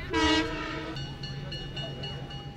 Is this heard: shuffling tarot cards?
no